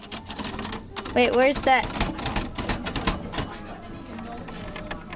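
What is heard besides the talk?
typewriter keys clacking and bell ding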